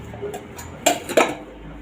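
Clean steel utensils being set out in a home kitchen: a few soft clinks, then two sharper metallic clanks near the end, close and fairly quiet.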